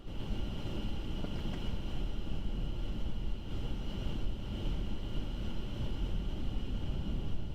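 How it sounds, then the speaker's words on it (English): Strong wind roars and buffets continuously around a parked car during a wildfire in Waseca, Minnesota, a dense low rumble with a faint steady whine above it and no voices. "I don't even think we can get out of the car because it's so windy"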